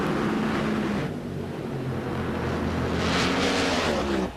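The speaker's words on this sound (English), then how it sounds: "A very precise procedure staging these race cars." NHRA drag race cars staging at the 1995 Autolite Nationals, loud engines rumbling and revving at the line, a brief dip then a surging roar before cutting off.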